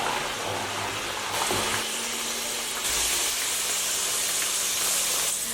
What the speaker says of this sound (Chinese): 炸到黄豆粒变小，在锅中发出噼啪声响，全部浮在油面上